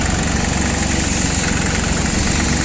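A three-cylinder Hinomoto C144 mini tractor engine idles steadily at close range, a continuous even rumble with a buzzing upper tone and no pauses.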